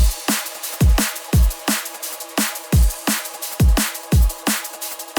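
A punchy drum and bass drum loop: deep kicks with pitch-dropping tails and bright snares and hats in a fast, driving breakbeat pattern, loud and continuous, with the peaks clipped.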